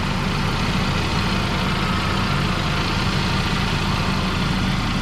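A high-mileage Saab 9-5 engine idles after a water pump replacement, a steady, even, loud rumble with no speech.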